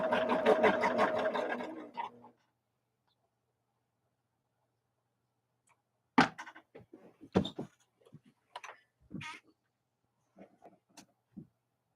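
A sewing machine stitches a quilt seam, its motor whirring steadily for about two seconds before stopping, followed by scattered light clicks and handling knocks in otherwise quiet surroundings.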